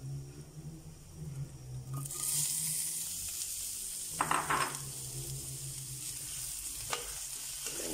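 Sliced onion dropped into hot oil already reddened with chili flakes, sizzling and frying steadily while a utensil stirs it, with a few sharp clinks and scrapes of the pan.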